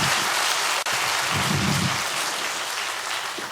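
An audience at an education forum applauds a chef's creative recipe demonstration, a dense, continuous crackle of many hands clapping together that holds steady for several seconds.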